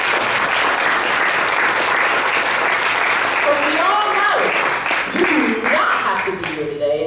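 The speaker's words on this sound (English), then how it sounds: "give yourselves a round of applause" Attendees at a Toastmasters district leadership training event give themselves a round of applause, a dense, loud wash of clapping that holds steady for several seconds while a voice begins speaking over it near the end.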